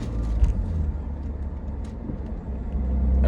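A Lexus IS300 with a manual-transmission swap drives on a road, its engine and tyre noise a steady low rumble that swells slightly toward the end, with no talking.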